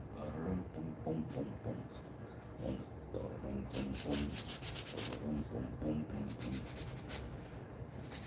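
Steady rubbing and rasping of sanding on a small wooden bowtie, continuous and close at moderate level, with a voice talking over it at times.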